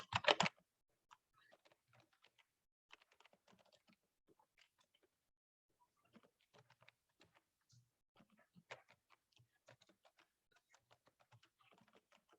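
Text being typed on a computer keyboard, heard as sparse, close key clicks in short irregular bursts after a louder opening knock, with no speech.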